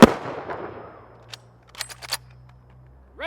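Rifle volley at a Utah law enforcement memorial ceremony for fallen peace officers: one loud shot opens, a scattered cluster of sharp reports follows near the two-second mark, and a further shot starts at the end, outdoors with a faint steady hum underneath.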